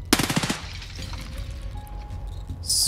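Automatic gunfire in Escape from Tarkov during a raid on the Dorms marked room: one quick, loud, close burst of rapid shots that stops abruptly, followed by low game ambience.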